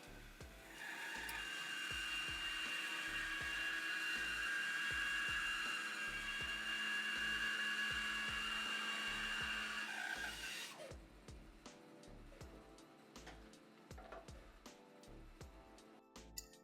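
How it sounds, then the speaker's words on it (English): A power saw cuts a flat along one side of a wooden bowl blank, a loud, sustained whining buzz that runs for about ten seconds and then stops, leaving quieter workshop knocks and handling. "Here I'm cutting a flat on this side of the blank to make it easier to cut the blank into a round."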